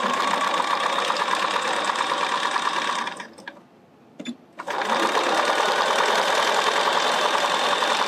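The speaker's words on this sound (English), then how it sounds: "when Leah uses that reverse back, it just sews backwards without her having to hold the reverse back" A sewing machine runs backwards in reverse stitch while jeans are being patched, a steady loud whirring that stops briefly near the middle and then resumes.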